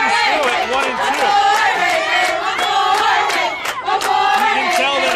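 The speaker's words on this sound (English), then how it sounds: "You can tell that our camera is right next to the Beacons dugout as they scream and chant and cheer, trying to will their team to a victory." A softball team in its dugout at a college game screams, chants and cheers loudly and continuously right beside the mic, many voices overlapping in rhythmic shouts without pause.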